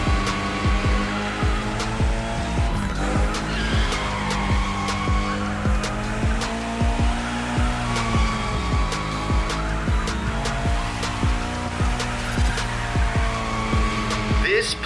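Car drifting in The Crew Motorfest with sustained engine roar and squealing tires, loud and continuous throughout, with a voice talking over it.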